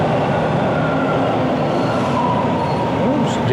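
A subway train sits at a late-night station platform, giving a loud, continuous rumble with faint metallic squeals and hiss, close by and steady across the short stretch.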